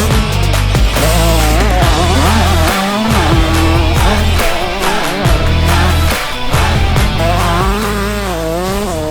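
A 2006 Suzuki RM 125 two-stroke motocross bike fitted with an HGS exhaust rides laps, its engine loud and close throughout, revving up and down with rising and falling pitch through gear changes and brief throttle cuts.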